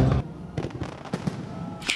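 Grand fireworks display after a holiday concert in Kirovohrad, a rapid series of near popping bursts and crackles, loud at first and then scattered, with no voices.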